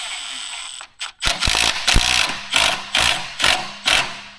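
Hand ratchet driving coarse-thread bolts, like wood screws, into a Ford Mustang, a close, loud series of about seven evenly spaced clicking pawl bursts with short pauses between pulls.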